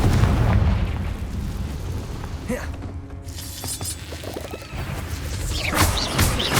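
Confringo blasting spell exploding in Hogwarts Legacy, a loud booming crash with rumbling debris and sharp bursts, combat effects continuing around it.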